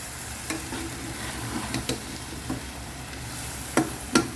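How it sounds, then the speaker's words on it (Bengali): Mixed vegetables with fungus and bamboo shoot base being sautéed with spices in a pan, a low steady sizzle with intermittent sharp spatula scrapes against the pan. "সবজিটা ভালোভাবে কষিয়ে নিচ্ছি মশলার সহকারে।"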